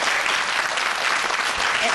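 Dense, even applause from a studio audience for professor Kim Eun-soo, sustained and loud throughout with no breaks.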